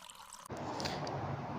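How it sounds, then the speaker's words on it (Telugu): Water splashes and gurgles into a pan of Telangana-style mutton curry as it cooks, a steady close wet pouring sound that starts abruptly and continues without talk. "ఇప్పుడు ఇందులోకి వాటర్ యాడ్ చేసుకోవాలి"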